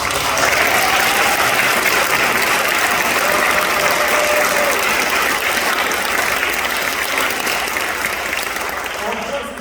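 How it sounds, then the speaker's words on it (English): Sustained applause fills the chamber at a Second Amendment bill signing ceremony in the Rhode Island State House, honoring legislators; a thick, even roar of clapping holds for nearly ten seconds, tapering slightly at the end. "Please round of applause."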